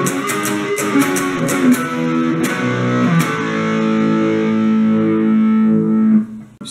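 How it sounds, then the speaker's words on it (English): Distorted electric guitar plays a second guitar riff, opening with a run of quick sharp picked attacks and settling into longer ringing notes before cutting off. "And then we get to a riff the second guitar is playing while the first guitar is playing this riff a third"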